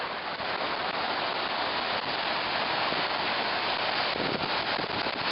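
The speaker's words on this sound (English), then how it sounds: "Oh, getting rained on." Rain pouring down at Niagara Falls, a dense, steady hiss of falling water and drops that stays constant and fairly loud throughout, with no voices.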